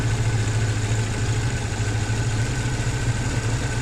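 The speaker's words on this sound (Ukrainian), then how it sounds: "Мотор робить гарно." An old car engine idles steadily, a constant low hum with a faint mechanical rattle, close and even throughout with no voices.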